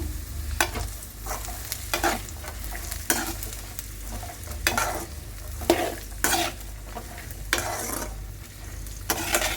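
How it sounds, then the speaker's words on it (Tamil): Finely chopped cluster beans stir-fried in oil for a poriyal, with repeated close spatula scrapes and stirring strokes over a steady, loud sizzle and no voices. "கொத்தவரங்காவை சேர்த்துட்டு நல்லா வதக்கி விடுங்க"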